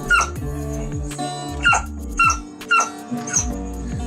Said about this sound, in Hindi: जो कि गिटार के साथ उसकी धुन में गाने की कोशिश भी कर रहा है।